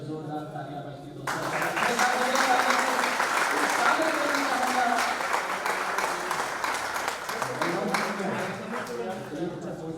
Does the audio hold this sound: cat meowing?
no